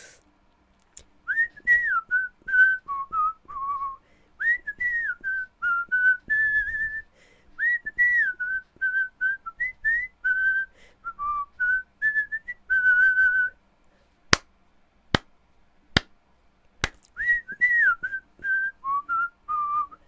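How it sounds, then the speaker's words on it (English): A person whistles a wandering, warbling melody in short phrases, close and clear, followed by four sharp clicks and then a final brief whistled phrase. "I whistle all the time."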